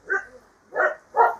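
Dogs bark three times in quick, close, fairly loud bursts, with short pauses between, at the start of a trek.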